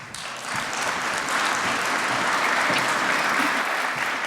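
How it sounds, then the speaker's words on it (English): A large conference audience breaks into a sustained round of applause, dense steady clapping that builds within the first half second and holds at full strength, with no talk over it. "Please join me in giving her a huge round of applause."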